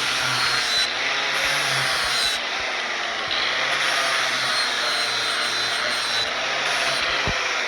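A bench grinder hones the back side of a John Deere F725 mower blade to a razor edge, giving a steady, loud, continuous grinding whine that runs unbroken with slight shifts in pitch and no talking.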